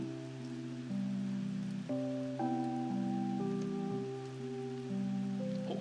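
Rain falls in a cave in the video game Shadow of Light as a steady soft patter under a sustained, layered musical tone, with no talking.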